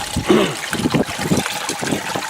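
Water trickles and splashes out of an aquaponics system, a close, uneven gurgling stream with small irregular spatters.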